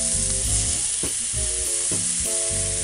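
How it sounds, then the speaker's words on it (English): Loud, constant sizzle of catfish frying in a hot pan, with occasional scrapes and clinks from a utensil. "You don't hear the sizzle, you ain't doing something right."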